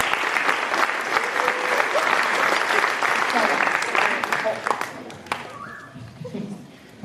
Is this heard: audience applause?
yes